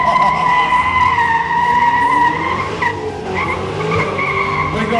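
A ute does a smoky burnout at a Sunday-morning show, with loud, continuous tyre squeal and engine roar that hold steady close up, then ease slightly but keep going.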